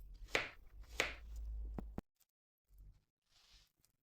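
Knife chopping apples on a board, two sharp distinct cuts followed by a short heavier scrape, then quieter soft knocks and handling sounds; no talking.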